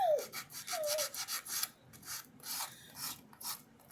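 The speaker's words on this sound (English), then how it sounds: "And so you just file it down." Rhythmic rasping strokes of a hand file scraping back and forth, close and fairly quiet, with a few brief squeaks at the start.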